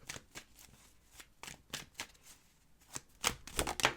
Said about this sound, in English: Let me go ahead and pull one more card here.